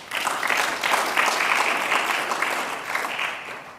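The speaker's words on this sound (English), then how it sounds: "So I give you great applause as South African workers." A crowd at a Toyota plant production launch in KwaZulu-Natal, South Africa, gives loud, sustained applause for the workers, steady and dense throughout with no pause.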